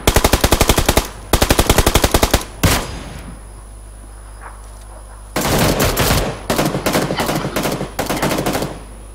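Rapid automatic gunfire crackles in PUBG Lite, in loud bursts that come in quick succession, then a pause with faint background, then several more bursts of fire.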